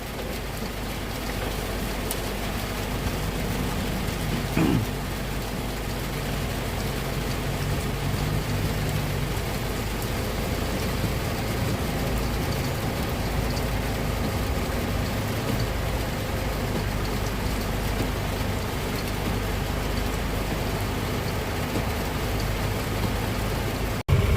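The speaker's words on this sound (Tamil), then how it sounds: "மழை தான் வந்து கெடுக்குது." Steady rain pours down through the jungle of Yala National Park, a dense continuous hiss that runs unbroken throughout with no voices over it.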